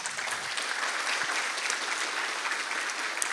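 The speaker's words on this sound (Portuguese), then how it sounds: "Uma salva de palmas" Steady applause from the audience at a Brazilian users' conference, a dense even patter of many hands clapping with no talk over it.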